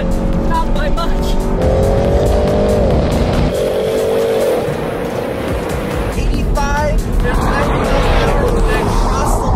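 A Chevrolet EV and a Corvette accelerating hard in a drag race, a loud rising engine roar with tire noise and wind rush, while a person talks over it.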